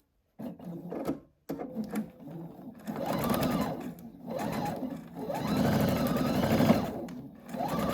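A sewing machine stitches quilt block units together in close, steady runs, starting and stopping briefly before running continuously at a droning, rhythmic pace, with no talk over it.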